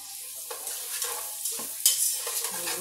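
Bacon lentil soup stirred in a pot: soft scraping and sloshing strokes with a faint sizzle beneath, a few brief clinks, close and quiet.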